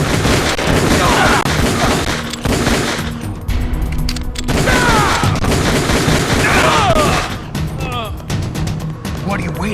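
Rapid, loud bursts of gunfire from Metal Gear Solid: The Twin Snakes rattle on in long stretches with short pauses, mixed with game voices talking over the shooting.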